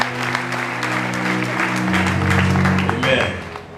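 A church congregation claps together over sustained music, the applause a warm, steady wash of hands that fades slightly as the final notes shift and die away.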